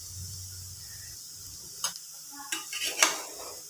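Potato fry is stirred in a pan over low heat. A faint, quiet sizzle is broken by a few sparse scrapes and clinks of the spoon against the pan.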